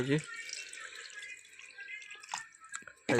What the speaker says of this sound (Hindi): बर्तमान देखो पानी ढाल दिया